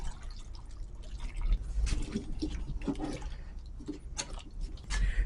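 A cup of water pours into a pot of potatoes with salt and turmeric, a brief rushing splash that swells and fades, close and alone without talk.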